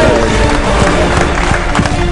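Team members applauding and cheering together right after a flight countdown, a dense, steady wash of clapping and crowd voices held at high loudness throughout.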